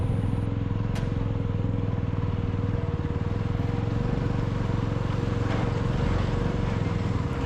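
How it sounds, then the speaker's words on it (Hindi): A Jawa 42 FJ motorcycle rides over the high Khardung La mountain pass, its engine a close, steady drone with rough wind buffeting and faint clatter, and no talking. "ये क्लिप में से मैंने पर्पसली बाइक का और आजू बाजू का साउंड हटाया नहीं है"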